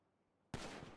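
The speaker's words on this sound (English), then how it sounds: "The fuck is shooting?" Sudden burst of gunfire in GTA 5 roleplay on a NoPixel server, a loud sustained volley erupting midway after a quiet stretch and continuing to the end.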